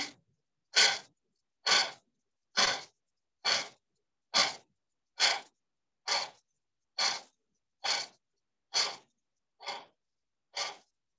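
Deep, forceful breaths during a purging breathing exercise, a dozen evenly spaced sharp breath bursts of roughly a second each, close and loud with no talk.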